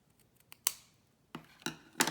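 Scissors snip through paper card stock for a flower pop-up card embellishment, with four crisp cuts close by: two light snips, then three sharper ones spaced about two-thirds of a second apart.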